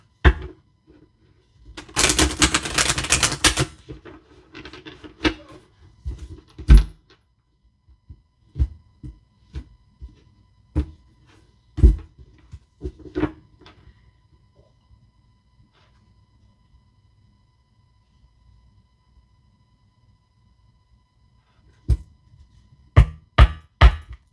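A burst of riffle shuffling, then scattered taps and card slaps over several seconds, a long quiet stretch, and a few sharp knocks at the end.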